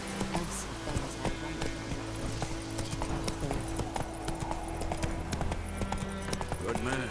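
Steady clip-clop of horse hooves at a walking pace in The Witcher video game, moderately close, with occasional character dialogue over the rhythmic footfalls.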